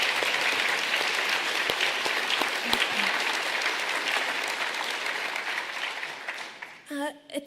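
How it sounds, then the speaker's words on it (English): An audience at a morning education gathering claps in a long, dense round of applause that gradually thins and fades, with a brief voice and sound near the end. "I'd just like us to give another applause"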